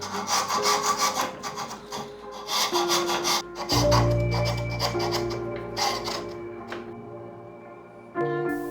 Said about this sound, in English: I used this new tool, a Shinto rasp, to refine the edges further.